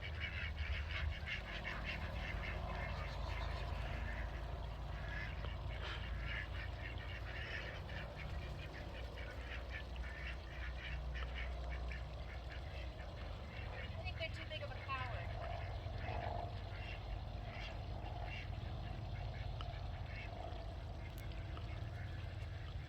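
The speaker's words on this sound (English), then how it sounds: "She gets to chase them around the duck pen a few times before they decide to mosey on out into the rest of the property." Ducks and geese in a duck pen on a property with a water garden pond, giving a busy stream of quacks and occasional honks, moderately close, running throughout under a person talking.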